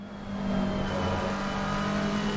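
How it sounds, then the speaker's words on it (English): GT3 race cars, including a Lexus, lapping the Hungaroring circuit in a racing video game, a steady droning engine note held at high revs, fairly loud and continuous with no voices. "Andy really drives that Lexus well"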